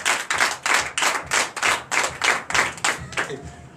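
Congregation at a Sunday church service in Comè, Benin, clapping loudly in a steady rhythmic beat, about a dozen strong synchronized claps that fade out at the end.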